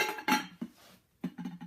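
A lid set onto a pan of venison backstrap buried in salt gives a few light metallic clinks and knocks, close and quiet, in short separate taps.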